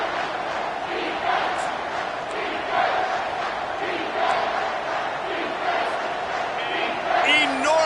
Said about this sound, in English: 3rd down, and this crowd is bringing down the house